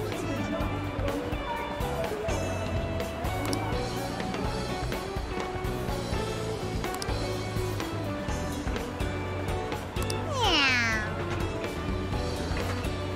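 A cat meows in the Persona 5 Strikers video game, a rising and falling call near the end that stands out over steady game music and ambient sound.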